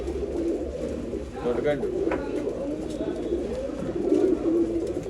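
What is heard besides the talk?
pigeons cooing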